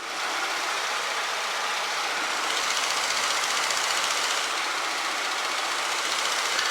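A 1936 Aeronca Low Wing airplane engine drones steadily during a climb, a constant broad hiss and hum at moderate level with no voices.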